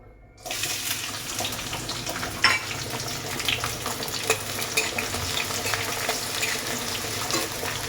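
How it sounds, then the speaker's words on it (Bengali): Chopped green chili and onion frying in plenty of oil, a steady loud sizzle and crackle that starts abruptly and continues throughout, with occasional spoon scrapes, close by with no talking. "এটা আমি তেলে দিয়ে দেবো এটা আমি সুন্দর করে ভেজে নেব লাল লাল করে"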